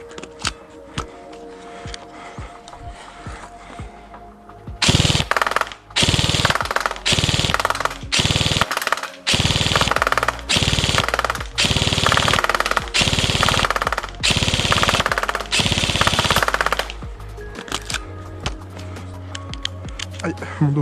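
A G&G Armament SGR556 airsoft electric gun (M4-style AEG with split gearbox) fires in a series of loud rapid bursts, about a dozen separated by short pauses, with voices talking before and after.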